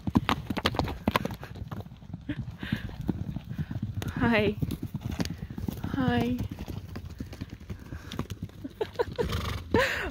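Several horses gallop across a field on a chilly morning, their hooves drumming in a dense clip-clop rhythm while a couple of whinnies ring out; someone speaks briefly over the close, busy hoofbeats.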